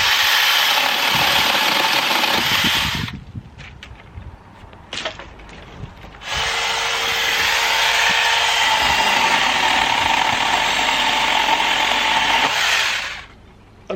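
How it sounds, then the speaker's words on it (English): A HOMALIFE cordless mini chainsaw cuts through wood with a loud, steady motor whine, stops for a few seconds of quiet handling, then runs again for a long, continuous cut before cutting out. "all you do is you just gently let it feed its way through"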